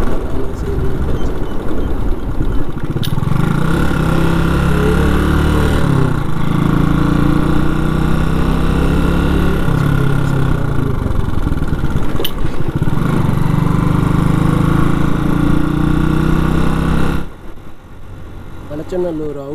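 A motorcycle engine drones steadily at close range, rising and falling with speed changes, and drops off near the end.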